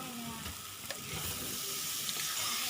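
Potatoes fry in oil with salt and turmeric in a pan for an Assamese fish dish, a steady close sizzle with occasional stirring scrapes and clinks.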